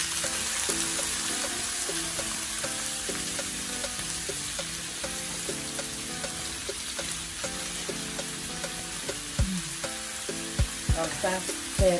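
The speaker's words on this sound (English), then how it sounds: "Let it heat up, then I'll put the mince in." Frozen mince sizzles in hot oil in a pan for spaghetti Bolognese, a continuous close crackling sizzle with occasional stirring clatters and a faint tonal hum in the background.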